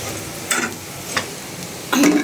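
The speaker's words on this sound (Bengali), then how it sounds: "আর এই পাশে কাঁকড় ভাজা হয়ে গেছে, সাথে যে শুকনো মরিচ দিচ্ছি দুইটা তিনটা।" Crabs fry in a pan as two or three dried chillies are added, giving a low background sizzle broken by three short bursts of scraping and stirring, the last one loudest.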